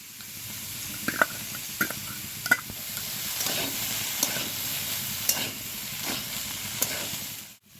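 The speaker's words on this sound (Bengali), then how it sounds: "আদা বাটাটা দেওয়ার পর আমি ভালোভাবে নাড়াচাড়া করে নিয়েছি" Potato, cauliflower and carrot frying with ginger paste, stirred in the pan: a steady close sizzle runs throughout, broken by a few sharp scrapes and taps of the spoon at irregular intervals, with no talking.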